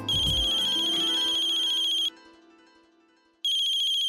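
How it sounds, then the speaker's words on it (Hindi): A telephone rings with a bright electronic ringtone, loud and close, playing for about two seconds, breaking off into silence, then starting again. "समधी जी का फोन है।"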